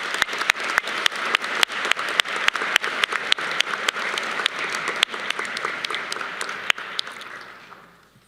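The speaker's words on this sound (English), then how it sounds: "let's give all these staff members a round of applause" Commencement audience applauding staff at a spring neuroscience graduation ceremony, a sustained even patter of many hands with a few sharp, distinct claps standing out, fading gradually toward the end.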